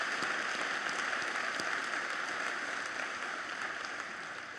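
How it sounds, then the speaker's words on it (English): Steady applause from an audience at a technical institute convocation ceremony, a dense, even wash of clapping at moderate distance that continues throughout and fades slightly toward the end. "Let's give them a round of applause."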